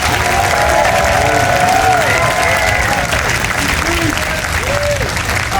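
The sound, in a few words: audience applause at a fundraiser luncheon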